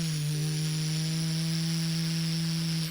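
A sledgehammer suddenly kicks into life and hums, a loud steady mechanical drone with strong buzzing harmonics that holds alone and unbroken throughout.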